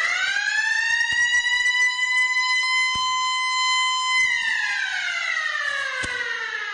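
A siren at a Brazilian June festival quadrilha dance competition wails loudly and steadily alone, holding a high tone for about four seconds before sliding downward as it winds down.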